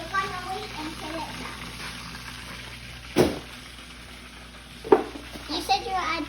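Fat melts in a heated pan with a soft, steady sizzle and crackle, broken by two sharp clatters of a utensil; a voice is heard briefly near the end.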